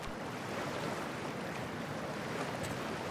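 Water washes and churns steadily as a character in the video game Cyberpunk 2077 wades into freezing water, a loud, continuous splashing wash with no talking.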